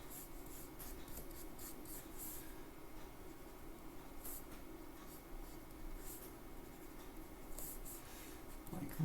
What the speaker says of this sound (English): I'm going to create a really quick drawing